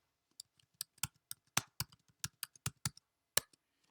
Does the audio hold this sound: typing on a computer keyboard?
yes